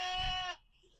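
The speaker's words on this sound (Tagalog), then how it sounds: "Ito, batang kambing, oh." A young goat gives one loud, close, wavering bleat lasting about half a second, followed by quiet.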